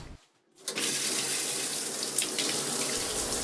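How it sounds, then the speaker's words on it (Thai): Steady shower water pours in a horror video game, starting after a brief near-silent gap and then running continuously and fairly loud at an even level to the end. "กดอีกเพื่ออาบน้ำ"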